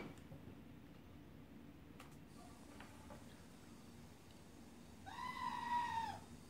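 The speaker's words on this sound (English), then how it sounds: "That goat's crazy!" A goat lets out a single loud, drawn-out scream that rises and then falls near the end, after a quiet stretch with a few soft clicks and knocks.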